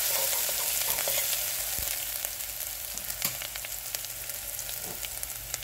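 Ginger garlic paste frying in oil in a pan for spinach pulao, a steady close crackling sizzle with soft stirring scrapes and no talk.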